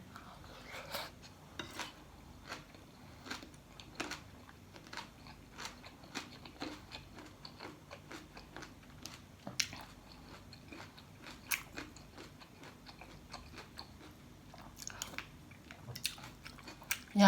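Someone eats crunchy Thai cucumber salad (tam taeng) with pickled mustard greens late at night, with close, repeated crisp bites and chewing plus occasional light clinks of utensils against a dish.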